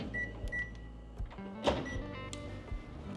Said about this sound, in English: all we're gonna do is stick it in the microwave for a minute